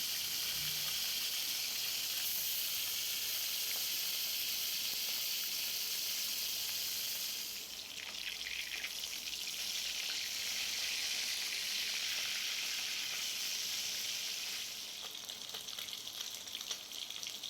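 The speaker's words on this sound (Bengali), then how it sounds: "এরপর আমি মাছগুলোকে এর মধ্যে ছেড়ে দেব, দিয়ে ভালো করে মাছগুলো আমি ভেজে নেব।" Bhola fish fry in hot oil, giving a loud, continuous sizzling hiss that rises and falls slightly and carries on alone with no voices.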